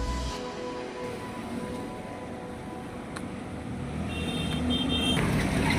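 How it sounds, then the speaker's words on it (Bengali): A Hyundai car backs up slowly in reverse-gear driving practice, a steady engine hum and road noise growing slightly louder toward the end, with a faint high tone entering near the close. "কি সুন্দর ব্যাক গিয়ার প্র্যাকটিস করানো হচ্ছে"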